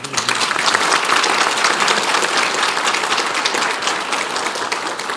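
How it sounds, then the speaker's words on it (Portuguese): A live audience at a roundtable discussion on ethics and morals bursts into steady, dense applause that stays loud and full for about five seconds, easing only slightly toward the end with no speech over it. "Vocês acabaram de aplaudir"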